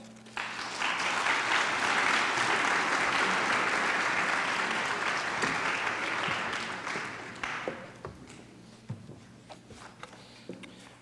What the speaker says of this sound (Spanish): Recibamos al doctor con un fuerte aplauso.